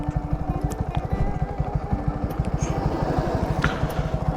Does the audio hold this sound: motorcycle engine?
yes